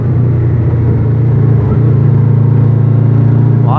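Honda VFR800X Crossrunner motorcycle engine under way on the road, a loud, steady mid-pitched drone holding an even note throughout, with a slight rise toward the end.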